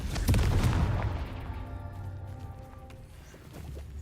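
A Confringo blasting spell explodes in Hogwarts Legacy, a loud booming blast up front followed by a long rumbling decay with ringing tonal tails and a smaller thump near the end.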